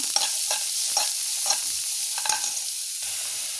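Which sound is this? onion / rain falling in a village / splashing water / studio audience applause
onion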